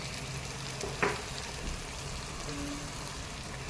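Chili and coriander powder sauté with ground coconut, poppy seed and cashew paste in a pan for Chettinad crab curry, giving a steady soft sizzle with a faint scrape of stirring, fairly quiet and close.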